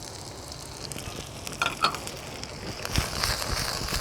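Onions sizzle in a hot pan of a quick stir fry with chili, a steady close frying hiss with brief bursts of crackle and a clatter as they are stirred.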